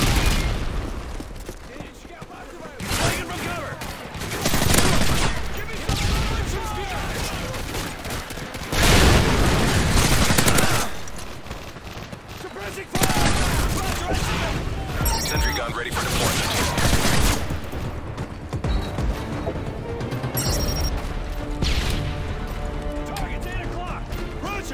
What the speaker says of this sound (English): Sentry is taking heavy fire.